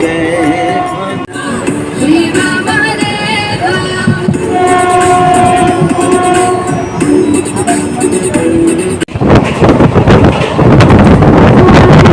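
Train ride heard from inside the carriage on a rainy day, with a loud, steady rumble and rattle of the wheels. Music plays over it, and at the end the rail clatter swells and becomes harsher.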